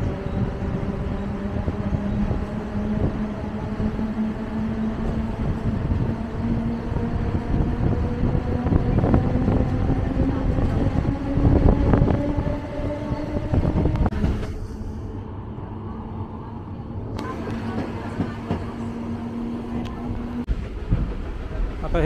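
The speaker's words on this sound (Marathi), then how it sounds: "बामणडोंगरी रेल्वे स्टेशनवरून आता ही ट्रेन सुटलेली" A train pulls out of Bamandongri station on the Uran line, a steady loud rumble with a sustained motor whine rising over twenty seconds and a brief change in tone midway.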